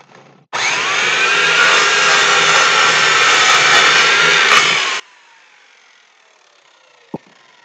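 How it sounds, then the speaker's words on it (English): Sawing through wooden joints fixed with brads in a distillery workshop: a loud, steady power-saw whine runs for about four and a half seconds, then cuts off. Quiet room noise follows, ending with a single sharp knock. "I am practicing safe sawing, sort of."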